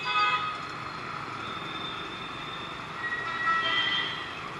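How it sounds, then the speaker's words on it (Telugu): A Hyderabad metro train at Gandhi Bhavan metro station gives off a steady, moderately loud rail rumble with a faint high whine that rises and falls, heard on its own without voices. "ఇది గాంధీ భవన్ మెట్రో స్టేషన్"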